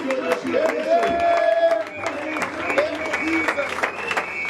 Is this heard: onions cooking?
no